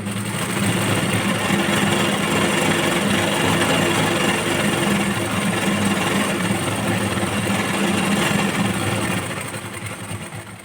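A sewing machine stitches blouse fabric in a steady, continuous mechanical whirr that runs close and loud for most of the span, then eases off near the end.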